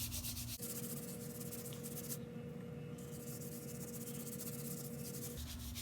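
A brush scrubs paint across a journal page background in a steady, close, soft rubbing rasp that runs almost without pause.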